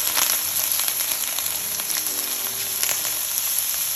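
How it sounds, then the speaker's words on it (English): Shrimp hitting a preheated wok of hot oil for Singapore mei fun, a loud continuous sizzle and crackle up close, with no voices. "once the wok is preheated again, I'm gonna add in our shrimp."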